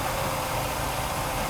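A Mercedes-Benz W126 300SEL engine idles steadily around 820 rpm after fuel distributor repair, a smooth continuous hum heard up close.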